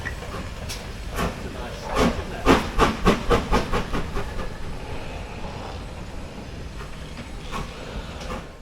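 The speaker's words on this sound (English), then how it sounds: "we've only seen some steam trains" A steam train at Bridgnorth station on the Severn Valley Railway puffs in a quick run of rhythmic chuffs, then settles into a steady hiss with faint background chatter.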